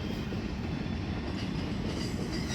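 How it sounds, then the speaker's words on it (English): A long, heavy freight train rolls past a crossing on Pratt Road, a loud, continuous rumble with a dense wheel roar and faint clatter, very close and steady throughout, with no voices. "It took the entire train 8 minutes to clear the crossing here on Pratt Road."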